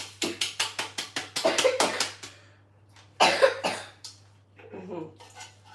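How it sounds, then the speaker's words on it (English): A string of sharp coughs in quick succession, then a pause and a few more heavy coughs, close and fairly loud. "Cough away from my food."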